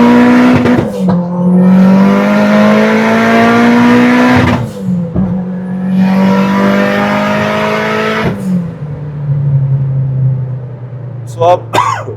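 A 2004 Mitsubishi Evo 8 MR street build of about 600 bhp revs hard with wheelspin in long, loud, sustained bursts that rise and fall, with squealing tires and brief pauses between pulls.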